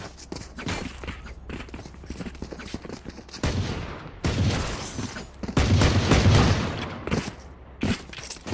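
Gunfire crackles in a Valorant esports match, bursts of rapid shots and clattering footsteps over busy game sound, with loud volleys swelling in the second half.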